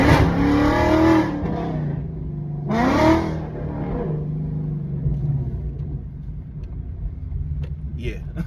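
A Ford Mustang 5.0 V8 with a newly installed exhaust rumbles and revs in two strong bursts, then settles into a deep idle. The car sits outdoors on a wet day, and a voice can be heard over the engine.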